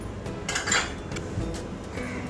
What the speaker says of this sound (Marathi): आता आपण ते झाकण लावून बरणी बाजूला ठेवूया